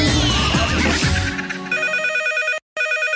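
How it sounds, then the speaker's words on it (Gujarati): A telephone starts ringing in a radio studio after a burst of music and voices, its bright electronic trill repeating in quick, even pulses with a brief break, loud and near. "આયો ફોન આવ્યો"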